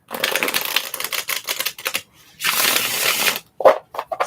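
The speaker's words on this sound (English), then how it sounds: "while I shuffle the cards" Tarot cards shuffled by hand in a close, quiet ASMR setting, giving bursts of crisp riffling and slapping in several runs with short pauses between them and a sharp tap near the end.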